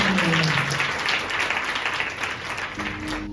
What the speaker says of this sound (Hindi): स्किट वाली बहनों के लिए, हमारी लेडीज लीडर सिस्टर नीमा के लिए हम तालियों के साथ उनको स्वागत करेंगे